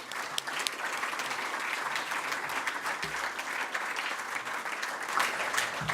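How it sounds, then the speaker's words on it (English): Audience applause at an innovation awards ceremony, a full, steady wash of clapping from a large room, consistent in loudness throughout with no talk over it. "another round of applause for the team."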